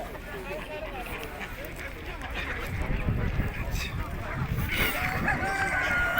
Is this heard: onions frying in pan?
no